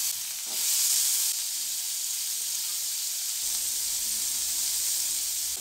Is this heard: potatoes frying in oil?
yes